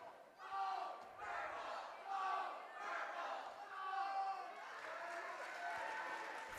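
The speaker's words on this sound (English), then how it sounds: "Fenton Meyer leading a cheer over there on the other side." Crowd cheering at a high school basketball game, a sustained roar of many voices rising and falling in waves, with chant-like swells heard from across the gym.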